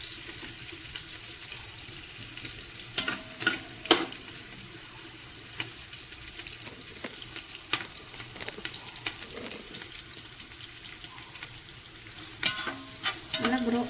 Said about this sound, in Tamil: நல்லா ப்ரௌன் கலர் ஆகிற வரைக்கும் நல்லா நம்ம இதை ஃப்ரை பண்ண போகிறோம்